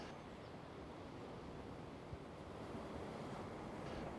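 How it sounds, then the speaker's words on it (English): Atlantic Ocean waves wash over a deserted tidal rock beside a natural rock pool, a steady, continuous roar of surf with wind noise, swelling slightly near the end. "the now deserted rock is inundated by the waves of the Atlantic Ocean"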